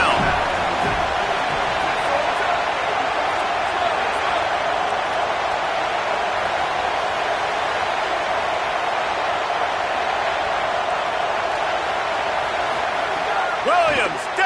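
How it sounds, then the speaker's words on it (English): Stadium crowd roaring in a college football video game, a loud, continuous wall of cheering and noise held steady throughout, swelling slightly at the very end. "Decibels rising as the crowd gets behind this defense on 3rd down."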